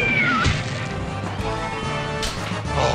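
A cat meows amid dense, loud noise from the Medieval Madness virtual pinball table: music, crashes and effects layered together, with the meow rising briefly near the start.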